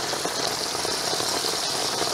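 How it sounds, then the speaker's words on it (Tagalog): Heavy rain pours steadily at an overnight solo campsite while dried fish fries nearby, a dense continuous hiss of drops drumming on surfaces, close and loud with no talking. "Lakas ng ulan."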